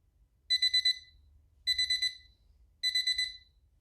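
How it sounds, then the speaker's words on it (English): An Easyera 10-inch RGB digital wall clock timer beeps in three quick bursts of four high-pitched tones each, evenly spaced, with a low hum underneath. "Once the timer runs out, it'll start beeping like that, so you know time's up."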